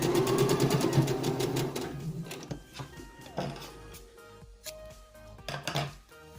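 Sewing machine running a basting stitch on a zipper, a steady fast buzz for the first two seconds, then intermittent short bursts and mechanical clicks with pauses between.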